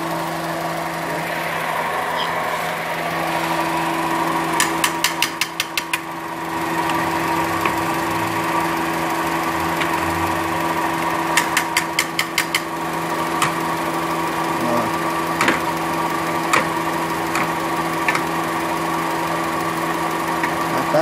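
A Honda Civic engine struggles to start, cranking with a steady mechanical drone and bursts of rapid ticking clatter that come and go without catching.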